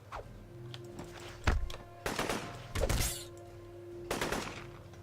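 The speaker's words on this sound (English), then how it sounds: "seems like you can't dodge those shots" Gunshots in the sci-fi action RPG Dex come as a few heavy, muffled thumps and short bursts spaced through a quiet stretch with a faint steady hum beneath.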